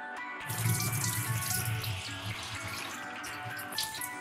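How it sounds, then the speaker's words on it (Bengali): Moong dal is rinsed in water, a close, quiet stream of running water with sloshing and gentle splashing that holds steadily throughout. "এরকম 1 থেকে 2 বার ভালো করে ধুয়ে নিতে হবে।"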